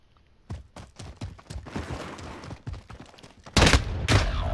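Video game gunfire in quick bursts of sharp shots, followed by louder, heavier blasts near the end, all close and without any talking.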